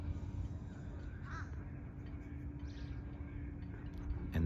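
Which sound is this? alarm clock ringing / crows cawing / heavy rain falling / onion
crows cawing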